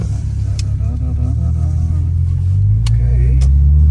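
A 1990 Nissan 300ZX twin turbo with T-tops accelerating from inside the cabin, a loud, steady low engine drone that climbs in pitch through the gears, with a brief voice over it.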